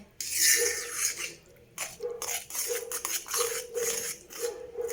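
A spoon stirs jaggery syrup into rava kesari in a pan, making close, wet scraping and sloshing sounds in uneven strokes with short pauses.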